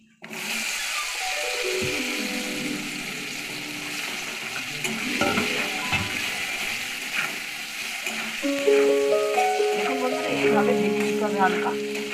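Steady sizzling of gatta (gram-flour dumplings) frying in hot oil, with occasional stirring scrapes and clinks; continuous and fairly close.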